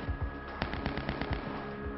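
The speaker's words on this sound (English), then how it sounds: "Shots are still being fired." Gunfire during a police shootout with bank robbers: a rapid string of about eight sharp shots in quick succession, fairly distant and muffled.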